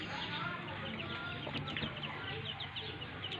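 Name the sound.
pet chickens and chicks clucking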